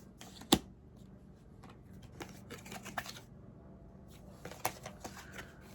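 Cards are shuffled and riffled nearby in quick bursts, with a sharp snap near the start and another cluster of flicks toward the end.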